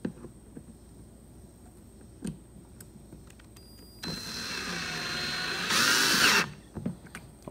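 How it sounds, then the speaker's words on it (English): A cordless drill with a number 9 Torx bit whirs briefly, then runs longer with rising pitch as it drives a screw into a Jeep TJ center console, a few light clicks and taps between bursts. "Now using my cordless drill and a number 9 torch bit, we'll go ahead and snug these things back down."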